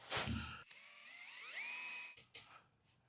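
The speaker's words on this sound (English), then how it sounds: "I don't put too much pressure on my drill as I'm drilling up" A high-pitched power drill whines steadily for about a second and a half, drilling upward into a 1970 VW Beetle body, its pitch climbing as it bites, with brief knocks before and after.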